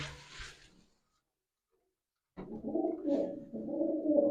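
Soft, low pigeon cooing in a few rolling phrases after a brief bird call and a silent gap, fairly close.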